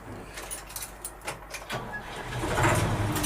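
HGV truck engine turns over and catches as the starter cranks, rising into a low, steady idle heard from inside the cab after some faint clicks and rattles.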